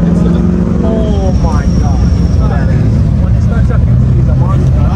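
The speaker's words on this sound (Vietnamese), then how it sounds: "Chiếc này là chiếc Mustang nó sửa rất là rộng, tiếng rất là lớn." A modified Ford Mustang at a supercar show roars loudly with a deep, rumbling engine and a few rising revs, heard up close beneath someone talking.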